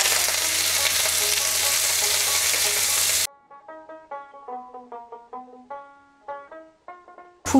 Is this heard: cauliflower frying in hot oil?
yes